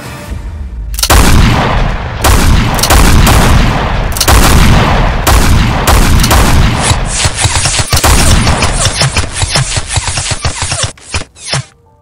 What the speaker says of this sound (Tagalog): tunog ng pagsabog ng mga kanyon